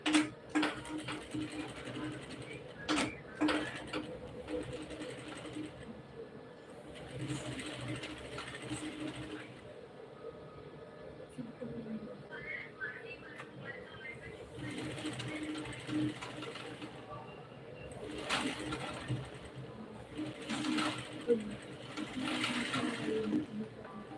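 A home sewing machine stitches fabric in short, quiet mechanical bursts separated by pauses, its rapid whirring rising and falling at a modest distance in an indoor room.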